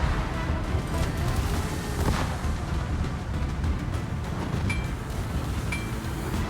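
Naval anti-aircraft guns fire from a warship in a video game, a dense, continuous rumble of overlapping booms and crackling bursts at steady loudness, with a couple of brief higher tones cutting through.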